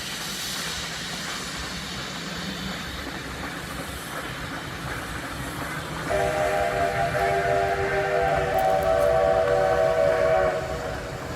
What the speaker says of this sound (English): Steam train's been going up and down these tracks all day.